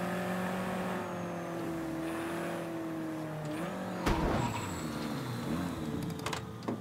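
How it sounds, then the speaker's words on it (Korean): A car engine in the video game Mafia III drones and shifts pitch, revving up after a sharp knock midway, with a steady mechanical exhaust hum throughout. "배기음이 패드에서 들리는 느낌이야."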